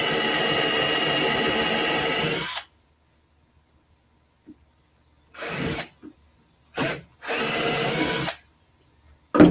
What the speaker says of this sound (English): I start by drilling a hole.